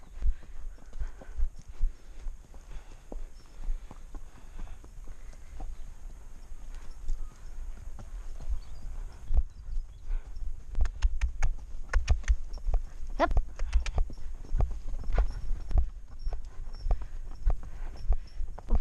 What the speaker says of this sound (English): It is a lot of work staying on a little horse.